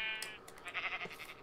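A Minecraft sheep bleats in a few short, wavering nasal calls, close and fairly quiet, with no other sound around it.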